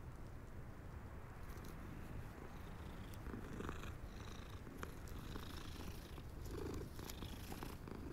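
A black cat in Hogwarts Legacy purrs softly and continuously, a low rhythmic rumble close up, with faint game ambience behind it.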